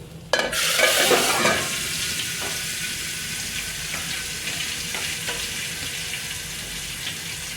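Onions hit hot oil with a sudden loud sizzle that settles into a steady, crackling fry, close up with no voices, with curry leaves in the oil.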